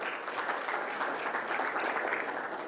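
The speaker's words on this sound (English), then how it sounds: "Can we have a big round of applause for Mr." An audience at a technology leadership conference gives a sustained round of applause for a speaker; many hands clap evenly in a dense, steady wash without voices.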